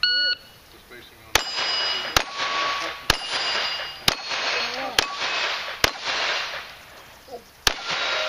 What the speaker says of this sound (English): Joe, that was straight shooting.